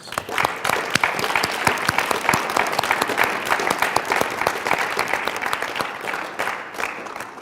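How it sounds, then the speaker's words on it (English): An audience gives a round of applause, with dense, sustained clapping at steady volume for several seconds before thinning slightly at the end. "That realness right there totally deserves a round of applause."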